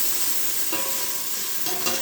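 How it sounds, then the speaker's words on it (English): Beef and tomato paste being stirred and tossed in a hot pan, a steady close sizzle with soft scraping strokes of the utensil and a couple of brief clinks, no voices. "So I just kind of toss that tomato paste around with the beef"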